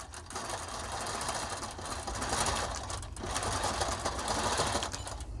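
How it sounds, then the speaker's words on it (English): A longarm quilting machine runs steadily, stitching backwards across a quilt with a continuous rapid mechanical whir and needle chatter. The sound stays close and even, with slight swells in intensity, and no voice is heard. "I have to admit, as not being so great at sewing backwards."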